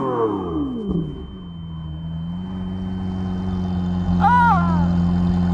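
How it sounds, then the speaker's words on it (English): A Lamborghini Aventador engine holds a steady, loud low drone at first, then swells and revs as its exhaust note climbs sharply near the end. "let's compare the exhaust sound when you rev them like crazy"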